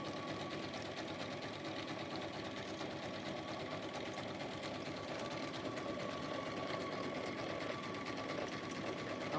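A sewing machine stitches signatures for a handmade journal, its steady, rapid mechanical whir running continuously and fairly close throughout, with no talking.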